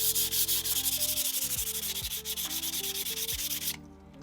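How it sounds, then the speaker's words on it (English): 320 grit sandpaper roughs up a walnut wood surface in quick, rhythmic back-and-forth rasping strokes, close and steady, with faint tonal squeaks underneath, ending abruptly. "So I'm going to take some 320 grit and I'm going to rough up the surface"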